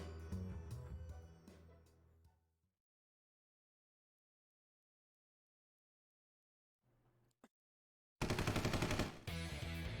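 Rapid automatic gunfire bursts out loudly and continuously in a castle shootout, after a stretch of music, near-silence and a brief isolated crack.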